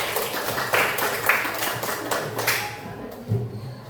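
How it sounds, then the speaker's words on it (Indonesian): A class of students claps for a classmate in an indoor classroom, a steady wash of many hands with a few louder claps standing out, fading toward the end. "beri tepuk tangan pada Nafa ya"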